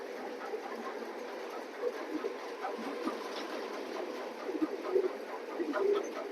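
A large female pigeon coos softly, with low repeated throaty calls over a steady background hum, fairly quiet and close, swelling slightly toward the end.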